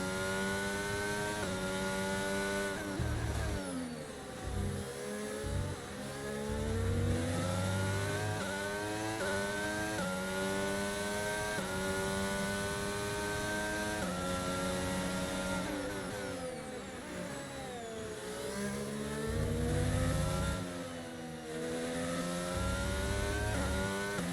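An F1 car engine at Imola in the video game F1 22, a loud, continuous high-revving whine that rises through the gears, drops sharply on downshifts for corners and climbs again on acceleration.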